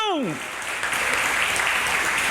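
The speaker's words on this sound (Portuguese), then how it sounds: "Dê uma salva de palmas para Jesus, igreja." A church congregation applauding during a worship service: dense, steady clapping that swells in after a brief descending tone at the start and continues loud and sustained, with voices mixed in.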